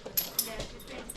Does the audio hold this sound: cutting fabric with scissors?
no